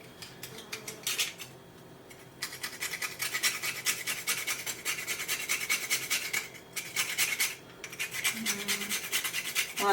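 Whole nutmeg scraped across a small hand grater in a home kitchen while making BBQ sauce, a steady run of close, dry rasping strokes broken by brief pauses, with faint clinks of utensils.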